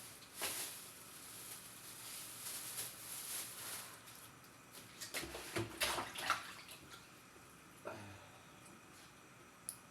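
Water runs from a kitchen tap at a home in Belvedere, a steady hissing flow with a few louder splashes and clatters partway through, heard alone without talk.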